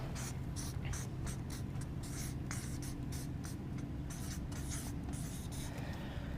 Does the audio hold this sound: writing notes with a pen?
yes